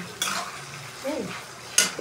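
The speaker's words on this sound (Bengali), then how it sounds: "এই আদা রসুনের পেস্টটা ভালো করে ভাজতে হবে, ভালো করে ভেজে নেবো" Ginger garlic paste fries in a pan with a low hiss, broken by a few distinct stirring scrapes and clinks of a utensil against the pan, close and fairly quiet.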